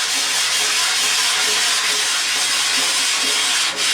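A metal scraper works oil and grime across a Blackstone griddle during re-seasoning, a loud continuous close hiss and scrape without pause or speech.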